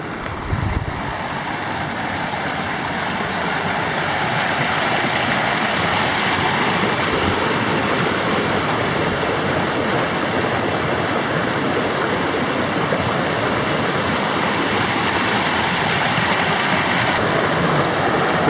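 Heritage Creek rushes through the forest along the Sioux-Hustler Trail, a loud, continuous broadband wash of flowing water close by, steady for the whole stretch with no voices.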